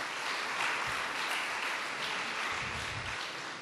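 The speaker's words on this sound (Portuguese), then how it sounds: "Palmas aí para os sulistas." Steady applause from a congress audience greeting attendees from southern Brazil, a dense even roar of many hands clapping at a distance, with no voices over it.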